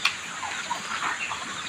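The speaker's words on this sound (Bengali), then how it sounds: "সো এ সাইডে অল্প কিছু মুরগি আছে" Chickens in a poultry farm shed, a scattered chorus of soft clucks and chirps from many birds at once, steady and moderately distant.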